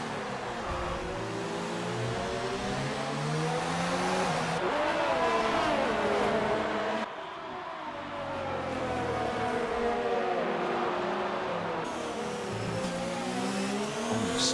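Race cars from a sim racing game howl around the Marina Bay street circuit in Singapore, several engines overlapping in a close battle, loud and continuous with rising and falling revs as they pass.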